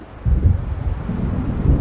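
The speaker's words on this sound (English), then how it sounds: "It seems there's a storm coming" Thunder from an approaching storm in Alan Wake rolls in as a deep, rumbling surge that kicks up after a quiet start and keeps grumbling low and heavy, with wind-like noise around it.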